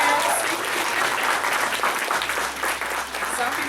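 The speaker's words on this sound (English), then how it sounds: "We're gonna give her a round of applause for her transparency." Audience applauding steadily at a K-pop fan panel at a convention, a dense, sustained clapping crowd filling the room for several seconds.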